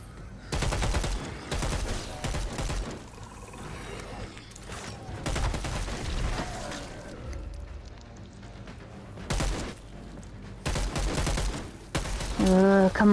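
Repeated bursts of rapid automatic gunfire in the zombie video game Dead Island 2, loud and close, broken by short pauses, with a brief stretch of voice near the end.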